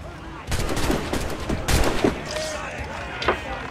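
Bursts of gunfire crackle through the noise of a naval ship boarding in the video game Assassin's Creed Rogue, with rapid volleys overlapping amid the din of battle.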